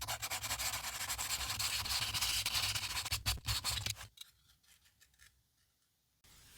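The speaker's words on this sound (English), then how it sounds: "Go ahead and just sand down any more portions as needed." Pebbled leather Prada loafers being sanded by hand, a dense rapid scratchy rubbing that runs for about four seconds, then drops to faint scraping and near silence.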